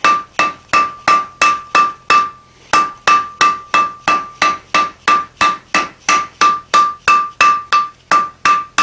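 A hammer strikes hot metal on a 5-inch-wide anvil while an octagon taper is forged. About twenty loud, ringing blows land in a steady rhythm with one brief pause, close by.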